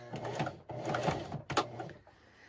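A sewing machine stitches white cotton lace trim onto a kitchen dish drying mat and then back stitches, giving close, rapid mechanical rattling bursts with short pauses between runs and no talk.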